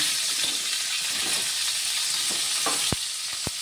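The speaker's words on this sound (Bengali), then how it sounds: "জাস্ট সবজিগুলোকে ছেড়ে দেব আর লবণ হলুদ দিয়ে ভাজা ভাজা করব।" Steady, loud sizzling of vegetables frying in a pan with salt and turmeric, with faint stirring scrapes and a couple of sharp clicks near the end.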